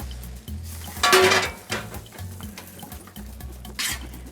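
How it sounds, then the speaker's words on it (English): Cooked cremini mushrooms with butter tumble into a pan, giving soft clatter and scraping with a loud clink partway through, over a low background rumble. "I'm gonna add the cooked mushrooms, all these cremini mushrooms with a little butter."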